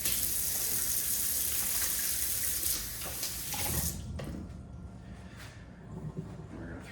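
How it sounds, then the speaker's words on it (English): Hands are washed under a running kitchen sink tap while pork chops are being made, a loud steady water rush that cuts off after about four seconds, leaving quieter drips and splashes. "Just gonna wash my hands real quick."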